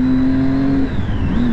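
A motorbike being ridden through the city, its engine holding a steady loud drone that dips briefly as the revs shift, then picks up again.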